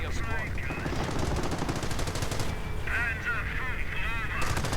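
Machine-gun bursts, rifle fire and artillery blasts from a World War II strategy game, a dense continuous battle mix with rapid rattling shots throughout and a voice commentating over it.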